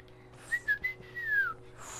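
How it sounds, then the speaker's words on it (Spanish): A person learning to whistle produces a few short breathy tones followed by a longer wavering whistled note that slides downward, faint and close, with a brief higher whistle at the end. "Estoy intentando aprender a silbar."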